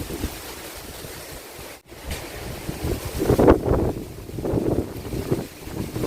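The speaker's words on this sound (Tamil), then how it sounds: "நல்லா காற்று அடிக்குது." Strong gusts of wind blow during a power cut, roaring and buffeting a microphone in uneven surges that swell louder around the middle and later part, with no speech.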